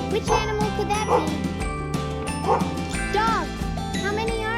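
A dog barks in several short, loud yaps spaced about a second apart, with a cheerful musical backing playing underneath throughout.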